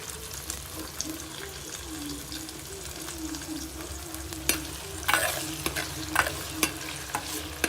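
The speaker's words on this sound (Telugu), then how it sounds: "కరివేపాకు అయితే వేసుకుందాం. అలానే పచ్చిమిరపకాయలు కూడా వేసుకున్నాం ఫ్రెండ్స్." Curry leaves and green chillies fry in a pan with onions for a village-style fish curry, a soft continuous sizzle under scattered stirring scrapes and clatters, fairly faint and close, with no voice.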